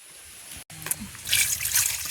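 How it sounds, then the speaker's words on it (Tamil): Water splashing and trickling as an unripe pineapple is washed by hand in a village setting, short and close, with a brief burst of sloshing and dribbling near the end. "இப்போ நாங்களும் இந்த அன்னாசிக்காயை சீவக முதல்வா கழுவி எடுப்போம்"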